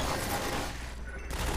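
Rapid automatic gunfire from a machine gun in the video game Half-Life 2, a dense continuous burst that briefly thins out before picking up again, loud throughout the short stretch.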